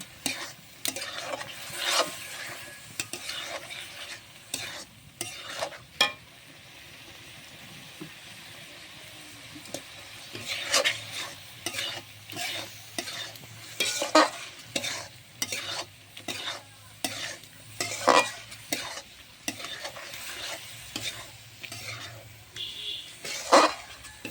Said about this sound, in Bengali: দিয়ে ভালোভাবে কষিয়ে নেব একটু।